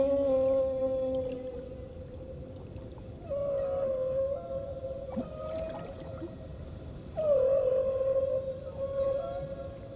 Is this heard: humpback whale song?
yes